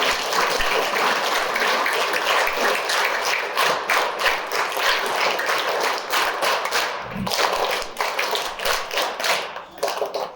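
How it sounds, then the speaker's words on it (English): Children in a school audience clapping, a long round of close, crisp hand claps that keeps a busy irregular rhythm for about ten seconds and fades slightly near the end. "let's give a big round of applause"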